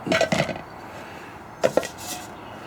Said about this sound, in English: Got a Wagner Ware pot.